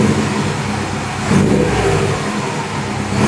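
A car engine that had been sitting for months revs loudly and continuously at close range, its pitch swelling and easing briefly before settling back.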